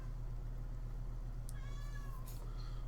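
A pet cat meows faintly, two short mewing calls in quick succession over a low steady electrical hum, with no talking.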